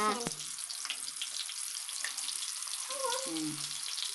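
Meal maker pakodi fry in hot oil with a constant crackling sizzle close by, plus a faint whistle-like tone and a murmuring voice in the background.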